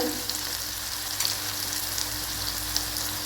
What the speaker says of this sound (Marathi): आपले लसूण लालसर भाजले आपले टोमॅटो चांगलं शिजायपर्यंत आपण त्याला भाजून घेऊया